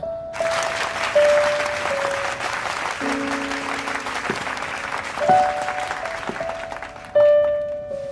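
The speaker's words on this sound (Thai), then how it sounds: "ขอให้ทุกท่านปรบมือต้อนรับอย่างอบอุ่นด้วยค่ะ" Wedding guests applaud warmly to welcome the groom, loud continuous clapping from a crowd over sustained background music tones, swelling again near the end.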